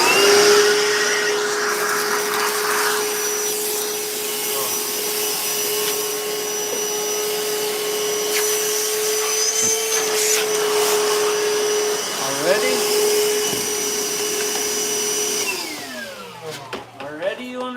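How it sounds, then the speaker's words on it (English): A vacuum cleaner runs in a lathe workshop with a steady, loud motor whine and a clear tonal hum. It sounds close by and continuous, then winds down and cuts off near the end. "I had a vacuum that I just left over here."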